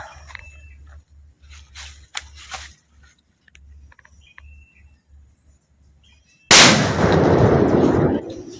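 A 10-gram Plapla firecracker goes off outdoors with one sudden, very loud blast that rings out for about two seconds. Quiet ambience with faint bird calls comes before it.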